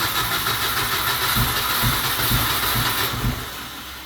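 An R53 Mini carrying a swapped Honda K24 engine cranks and fires on a cold start: a loud, rough mechanical churning with ratcheting pulses, heard close up with no voices.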